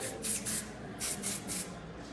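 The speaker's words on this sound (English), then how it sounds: "Let's use a little bit of this as our dry conditioner. Spray that in." Dry conditioner sprayed onto short layered hair during a haircut, several quick hissing bursts in a row, close and fairly loud with no talking.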